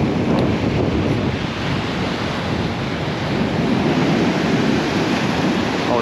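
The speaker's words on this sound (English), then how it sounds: "these reels are certainly handling this little bit of wind that's coming in" Steady wind and breaking surf on Southbourne Beach in Dorset during shore fishing, a loud continuous wash of waves and gusts buffeting the microphone with no pauses.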